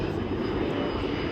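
A big CASA-built transport aircraft, flown as a maritime patrol plane, passes at the Portrush Airshow 2024 with a steady, loud, broad engine roar and no talk over it.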